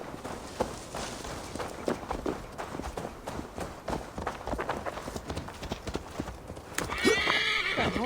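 Horse in Assassin's Creed Valhalla, steady galloping hoofbeats clip-clopping close and continuous, ending with a loud whinny near the end.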